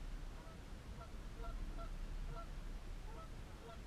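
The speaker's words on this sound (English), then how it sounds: "I don't know if you can hear the honking of those geese over there" Geese honking repeatedly at a moderate distance by a lake, calls overlapping in an irregular chorus over a steady outdoor background rumble.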